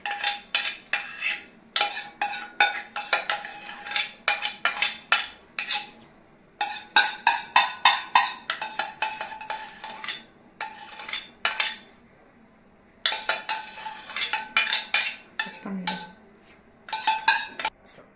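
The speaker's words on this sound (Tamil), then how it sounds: "அடி பிடிக்காத மாதிரி நல்லா மிக்ஸ் பண்ணுங்கள்." A sweet mixture is stirred in a pan over a low flame, a spoon scraping and clinking against the metal in rapid, steady bursts broken by brief pauses.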